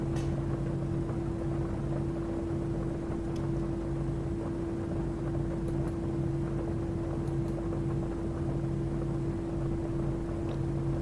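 A PMDG 737-700 runs its engines in a flight simulator, giving a steady, continuous hum with a constant pitched whine and a low rumble that stays even throughout, with no talking.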